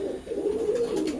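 Teddy pigeons of an imported bloodline coo in a short, close, low throaty warble that wavers continuously and stands alone without talk.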